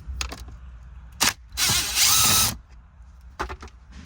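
A power tool takes out 8 mm bolts. Short mechanical bursts come first, then a loud, steady whir of about a second, then a few clicking, ratcheting taps, with no talking.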